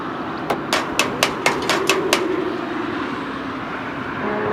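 Hammering on a car in the racing game NFS ProStreet, eight quick metallic clanks in a steady rhythm over a constant background drone, then the drone continues alone.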